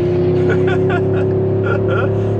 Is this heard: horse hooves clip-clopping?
no